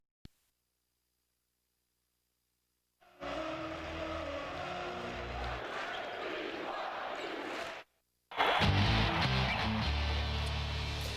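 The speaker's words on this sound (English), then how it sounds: "It was a loud sellout crowd as BYU hosted their new rivals, St. Mary's" Loud sellout crowd roaring inside the packed Marriott Center at a BYU home basketball game against St. Mary's, a dense sustained roar that cuts out briefly and then returns even louder, with sneaker squeaks and chants mixed in.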